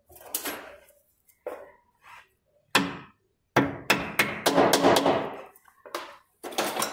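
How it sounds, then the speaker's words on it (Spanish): A hammer taps a retaining clip onto a car's brake hose during repair of overheating brakes: a series of sharp metallic strikes, irregular and close, some single and some in quick clusters, with quiet gaps and no talking. "Martillo."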